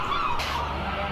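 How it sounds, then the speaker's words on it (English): Seagulls call near Wemyss Bay Station on the Scottish coast, loud harsh squawking cries over constant outdoor background noise. "the seagulls definitely want you to know that they're around"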